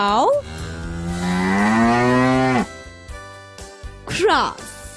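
A cow moos loudly and close by in one long, drawn-out call, followed after a pause by a shorter rising moo over a faint musical background.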